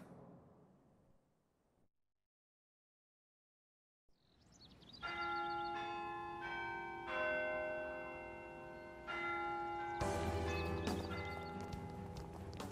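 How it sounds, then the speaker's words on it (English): Church bells in the video game Monark ring out as a sustained, resonant chime with layered tones after a brief silence, loud and close, swelling with a second strike near the end, no voices. "You know, just hearing those bell rings kind of reminds, you know, someone like myself going to Sunday school with those church bells."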